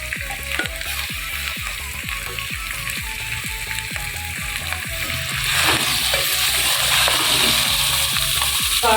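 Minced beef keema added to a hot pan for dum beef keema, frying with a loud continuous sizzle and rhythmic scraping stir strokes throughout.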